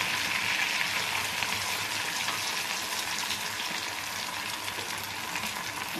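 Green chillies frying in hot oil in a home kitchen while making sweet poornalu, giving a steady, bright sizzle with a constant hiss and no pauses, close and even throughout.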